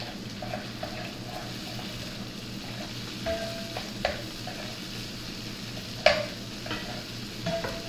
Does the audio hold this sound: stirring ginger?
yes